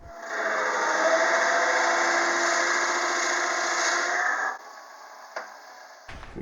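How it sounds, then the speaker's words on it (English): A lathe drives a 1 3/8 inch Forstner bit into a wooden salt shaker blank, cutting a shallow hole: a steady whirring drone for about four seconds, then winding down with a few faint clicks. "I'm going to drill a 1/16 inch deep hole, very shallow, just to fit the top cup of the salt shaker."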